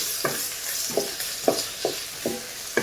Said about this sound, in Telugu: ఈ ఆనియన్స్ అనేవి కాస్త ఫ్రై చేసుకోండి